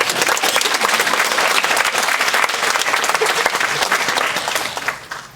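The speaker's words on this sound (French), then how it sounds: "Applaudissez-le." Dense, loud audience applause at a university eloquence contest final fills the space steadily and fades slightly at the very end, with no voices over it.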